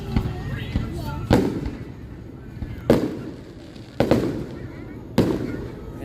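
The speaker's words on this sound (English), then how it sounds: "watching the fireworks?" Fireworks burst at a family Fourth of July celebration, several separate booming explosions spaced a second or so apart, fairly close and loud, with voices chatting in the background between bangs.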